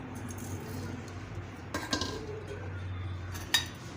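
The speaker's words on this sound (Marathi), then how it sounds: "याच कढईमध्ये मी संपूर्ण साहित्य ओतून घेणार आहे" Mouth freshener ingredients are tipped into a metal kadhai for roasting, producing a few scraping rattles and light metallic clinks over a quiet background hum, with no voices.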